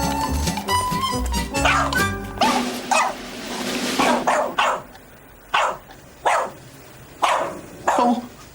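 A dog barks repeatedly in sharp, separate bursts at an irregular rhythm, following a stretch of music with mixed sounds at the start.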